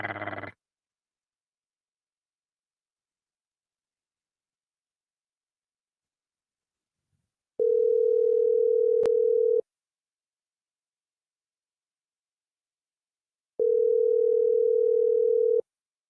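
A telephone line purrs with a steady ringback tone while a missed call is returned, two long, loud, even tone bursts separated by silence, with a brief click in between.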